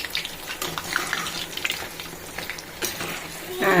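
Green chilli bajji fritters frying in hot oil as a rainy-evening snack, a close bubbling sizzle with scattered clinks and scrapes, swelling louder near the end.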